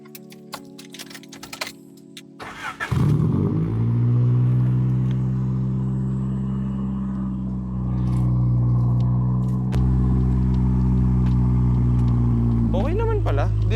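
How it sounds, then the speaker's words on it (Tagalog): A 1996 Honda Civic with an aftermarket exhaust catches and settles into a steady, fairly quiet idle, a low hum that continues to the end. Light clicking and handling noises come before it. "Yung exhaust mo ba, pwede nating parinig? Kahit yung idle lang."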